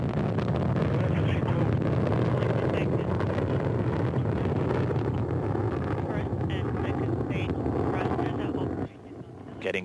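Soyuz rocket carrying the ISS Expedition 50S crew, its four strap-on boosters and core delivering about 930,000 pounds of thrust, a steady broadband roar throughout with a narrator talking over it, dropping off abruptly near the end.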